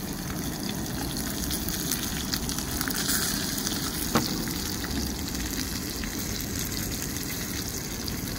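Garlic sizzling steadily in a hot pan alongside a ribeye steak, a loud continuous frying hiss with a brief sharp click partway through, no talking.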